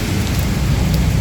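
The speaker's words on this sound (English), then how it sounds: "So there's the rain." Steady, heavy rain hisses on a street beside a road in Butuan City, a dense and continuous wash of drops with no voices.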